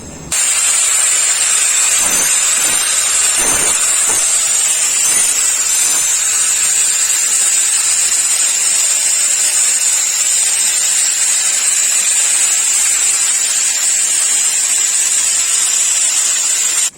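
Welding on a motorcycle exhaust cone for a Yamaha F1ZR muffler build, heard as a loud, steady, hissing buzz that runs without a break, with a few faint knocks near the start.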